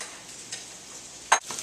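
Mediterranean vegetable medley frying in a heated pan with olive oil and garlic, giving a faint, steady low sizzle with a brief louder stir or clatter near the end.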